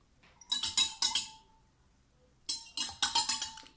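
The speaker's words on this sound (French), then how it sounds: "Je vais mélanger." A utensil stirs liquid in a glass, giving two bursts of quick, bright clinks against the glass with a short pause between them, close and fairly quiet.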